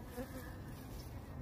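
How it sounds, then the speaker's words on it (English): Bees buzz around a Maria Rosa dragon fruit flower, a faint continuous drone close by with no voices. "Looks like we're gonna fight some bees here to get this Maria Rosa pollinated"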